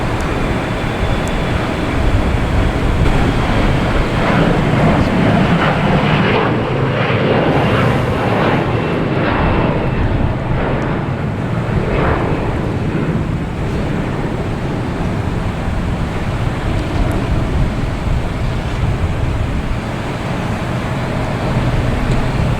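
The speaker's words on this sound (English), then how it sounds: "We'll stick with the takeoff here, get some good sound." Airliner taking off at Boston Logan Airport, a loud continuous broadband engine roar with rumbling low end that holds steady throughout, heard from nearby with no talk.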